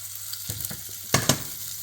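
Pancetta and artichokes roasting in a pan for artichokes à la barigoule, giving a steady soft sizzle with a few brief louder bursts of frying and stirring.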